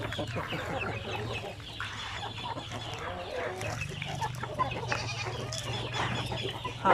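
RTL Basilan laying hens cluck steadily at feeding time over a mash of feed, rice and sliced bread scraps, with goat-like bleats and other farm animals mixed in from nearby.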